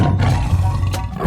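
A tiger in a 3D animal video game lets out a short, loud, growling roar that fills the brief moment up close.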